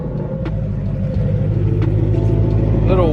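A Ford Mustang engine idles with a steady, loud low rumble, the running warm-engine drone filling the whole clip, with a brief rise near the end.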